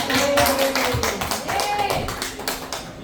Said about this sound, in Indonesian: Boleh kita kasih tepuk tangan sekali lagi ya